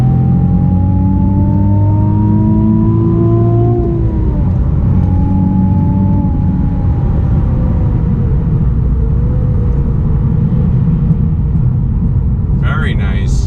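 A 2019 Nissan 370Z NISMO engine drones steadily as it pulls through third gear out of a turn, its pitch rising and then dipping, loud and continuous, with someone talking over it.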